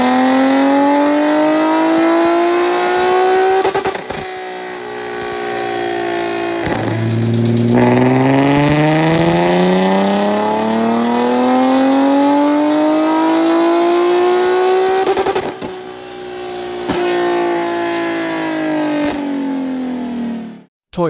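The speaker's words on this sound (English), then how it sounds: "Nissan 370Z." A Nissan 370Z engine revs hard on a dyno, its loud exhaust note climbing steadily through the gears with brief drops at each shift, close and continuous with no talk.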